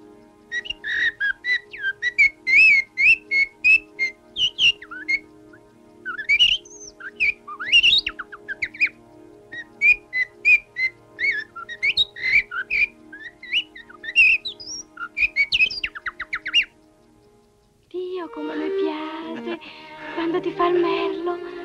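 A man whistles a warbling, bird-like melody in short bursts, imitating a blackbird's song, followed by a few seconds of someone talking.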